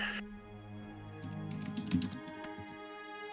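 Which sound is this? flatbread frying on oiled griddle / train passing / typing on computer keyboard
typing on computer keyboard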